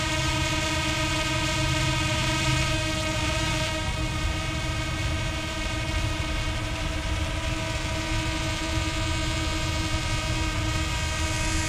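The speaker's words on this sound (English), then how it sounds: "Get right under the drone here." A DJI Spark drone fitted with Master Airscrew stealth propellers hovers close overhead, giving off a steady, loud, continuous propeller whine with a layered tonal hum and no pauses; no one speaks.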